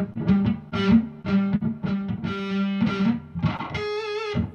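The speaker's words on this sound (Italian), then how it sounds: "La volete sentire distorta questo pezzo di Bach con una distorsione oppure pulito come l'ho fatto prima?" Distorted electric guitar playing a Bach piece, a run of picked notes with a thick, saturated overdriven tone, loud and close, with no talking over it.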